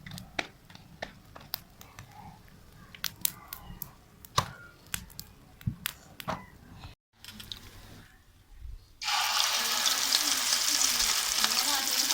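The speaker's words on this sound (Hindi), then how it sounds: "ये मैंने कर लिया है फ्राई और ये आमलेट बना रहे हैं" An omelette with onion, green chilli, red chilli and salt fries in a pan, first quiet clatter and taps, then a loud, steady, hissing sizzle that starts abruptly and carries to the end.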